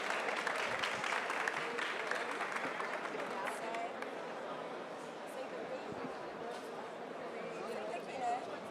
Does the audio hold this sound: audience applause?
yes